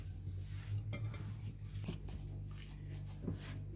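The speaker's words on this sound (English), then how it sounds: "So I'm going to mix the ingredients well." Burger patty ingredients being mixed by hand in a bowl produce soft, faint squishing and occasional light knocks over a low background hum.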